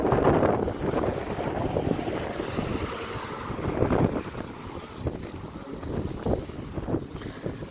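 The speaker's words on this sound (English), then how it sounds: "Oh, there's that wind again." Steady wind buffets a microphone outdoors at night on a walking tour of Drayton, a loud broadband rumble that swells and eases throughout with no talking.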